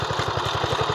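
A Honda GX270 engine runs on a Quick Impala hand tractor, a close, loud, steady rapid chugging idle with an even pulsing rhythm throughout.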